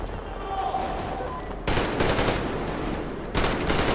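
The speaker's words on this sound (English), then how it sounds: "Covering fire from the Colonel! No saving ammo!" Sustained covering machine-gun fire in the Metro Exodus DLC The Two Colonels, a dense steady rattle of shots that grows louder in the middle and again near the end, with battle noise throughout.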